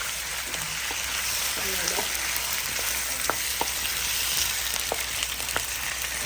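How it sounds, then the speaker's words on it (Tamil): Tomatoes sautéing in a pan for a vegetarian meal, a continuous frying hiss with scattered soft clicks and knocks of stirring, no one speaking. "இப்போ தக்காளி போட்டோம் வதக்கு போகிறோம்"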